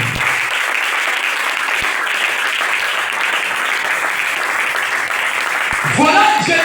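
A church congregation during a worship service applauds in a long, even wash of clapping, steady and moderately loud, with a voice speaking at the very end.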